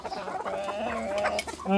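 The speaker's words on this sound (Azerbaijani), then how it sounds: "Qarşılayın toyuqlar." Australorp chickens cluck close by in a short burst of overlapping calls, ending with a louder squawk.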